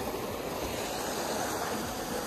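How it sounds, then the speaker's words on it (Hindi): Water rushes steadily at Pari Taal, a hidden lake, a broad even wash of noise with no breaks, close and fairly loud. "पानी की आवाज़ भी जो है गाइस बढ़िया आ रही है"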